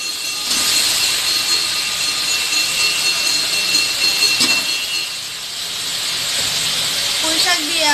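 Prawns and Malabar spinach (pui shak) fry in a pan, a steady loud hiss and sizzle running for several seconds with a brief dip midway and a faint clatter near the end.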